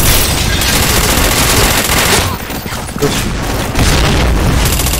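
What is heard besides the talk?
bomb explosion in the video game Point Blank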